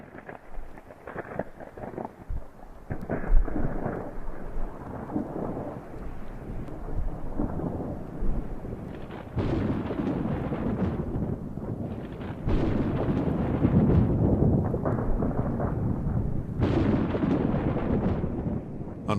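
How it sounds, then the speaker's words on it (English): A massive dry thunderstorm over northwestern Montana, lit by about a hundred lightning strikes, sends deep, rolling rumbles that swell and fade in long waves, with heavy low booms and wind-like roar throughout; no one speaks. "a massive dry thunderstorm rolled over northwestern Montana, erupting with 100 lightning strikes"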